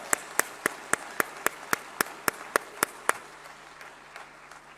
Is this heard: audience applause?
yes